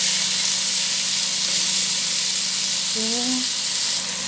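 Tomato, garlic, onion and ginger fry in oil in a pan, giving a steady, close, bright sizzle and hiss throughout, with a brief voice near the end.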